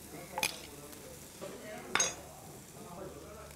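Coriander, pepper, turmeric and masala powders frying over low heat in a clay pan, stirred with a utensil: faint steady sizzle with two sharp scraping clinks against the pot, close up.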